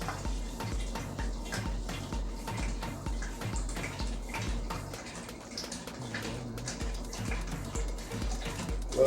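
Sparkling white wine poured into a bowl in a kitchen, a continuous close splashing and gurgling stream with fizzy trickles, steady throughout with no talking.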